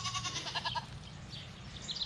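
Goats, including bucks, does and young kids, bleat on a farm yard, with a few wavering calls up close at the start and thinner, fainter bleats later over a soft outdoor background.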